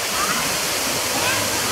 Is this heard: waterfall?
yes